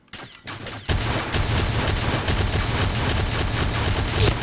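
A Noveske N4 rifle in the Point Blank shooter game fires a rapid, sustained burst after a brief quiet start, the close, loud shots rattling continuously to the end.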